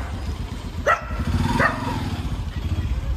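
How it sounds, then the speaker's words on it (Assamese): Street dogs at night near a petrol pump give two short, sharp barks close by over a steady motor and traffic rumble. "পুৰা ইয়াতে মানে বহুত কুকুৰ আছে"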